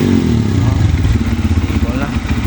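A Rusi Flame 150i motorcycle idles steadily up close, its engine putting out a loud, even low rumble with a regular pulsing beat and no revving.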